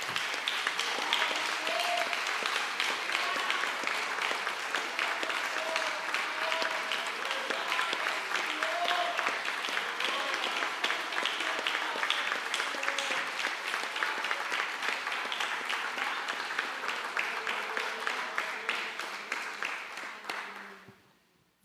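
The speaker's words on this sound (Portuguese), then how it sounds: "Vamos aplaudir ao Senhor nesta noite" A church congregation applauds during a thanksgiving worship service, steady sustained clapping from many hands for about twenty seconds, with a faint sung or spoken voice in the background before it cuts off.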